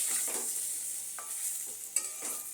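Potatoes frying in oil in a pan at home, a soft steady sizzle with occasional stirring scrapes and a couple of sharper clicks.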